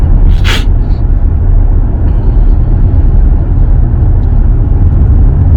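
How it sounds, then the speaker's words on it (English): Steady low road rumble and engine hum fill the cabin of a 2018 Chevrolet Colorado pickup truck while driving, loud and continuous, with a brief sharp hiss near the start and no talking. "Truck drive is pretty smooth."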